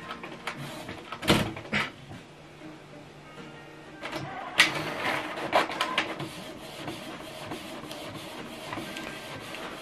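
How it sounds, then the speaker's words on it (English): A Canon TS9155 inkjet printer prints with mechanical whirs and clunks, sharp paper-feed clacks near 1.3 and 4.6 seconds, then a steady motor hum and sliding rubs, close and moderately loud with no talk. "Okay, so right now it's printing."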